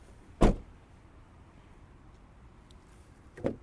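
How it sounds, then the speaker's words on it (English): Rear door of a 2025 MG ZS Hybrid+ small SUV, heard as two short sharp clicks of the latch and handle about three seconds apart, close and fairly quiet against a hushed background. "Opening the rear door, you can now see the door opening angle"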